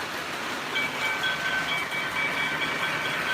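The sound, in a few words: O gauge model train running on track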